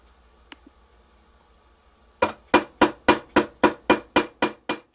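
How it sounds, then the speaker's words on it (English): Soft mallet tapping a wire fish hook loop on a key chain: ten steady, evenly spaced strikes, close and fairly loud, after a quiet start with a couple of faint clicks. "You can finish it up by hammering with your soft mallet."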